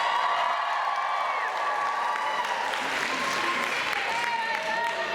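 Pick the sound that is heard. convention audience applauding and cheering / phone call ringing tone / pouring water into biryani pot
convention audience applauding and cheering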